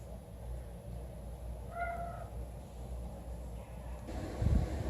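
A single short cat meow rises in a free-roaming cat room at a rescue shelter, heard over low room hum and rustling, followed by a brief thump near the end.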